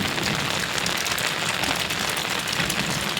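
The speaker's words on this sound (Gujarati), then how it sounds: "તડકો છે ને એક સાઈડ વરસાદ ચાલુ છે." Rain falls during sunshine, a dense, steady patter and hiss on the surfaces nearby that continues without a break.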